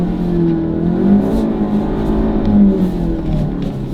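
A Ford Focus RS engine drones steadily while the car ploughs through deep snow, a continuous low rumble with slight rises and falls in revs, close and loud throughout without talk.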